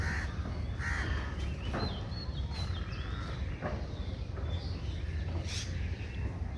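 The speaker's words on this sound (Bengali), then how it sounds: "এদিকে প্রচুর পরিমাণে কিন্তু পাখির কলরব শোনা যাচ্ছে।" Several crows caw in a garden with flowering plants and neem trees. The harsh calls repeat at a moderate distance over a constant outdoor background hum, and other birds chirp faintly.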